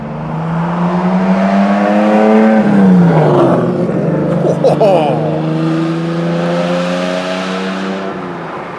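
A loud Lamborghini sports car engine roars and revs up close, the pitch climbing and dropping as it passes, with a brief exclaimed reaction over it.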